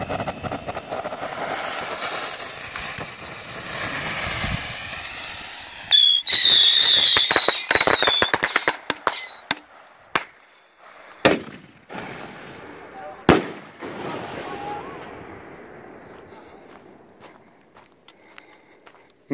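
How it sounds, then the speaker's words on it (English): Firework rockets set off outdoors: a dense run of sharp pops and crackling bursts in the middle, then scattered loud single bangs fading out with quieter gaps between. "Missed some rockets here."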